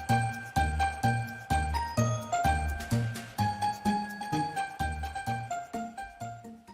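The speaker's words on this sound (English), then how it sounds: "Jingle bell." Jingle bells ring in a series of rhythmic, evenly spaced tinkling bursts, close and bright, quickening slightly toward the end, with no voices over them.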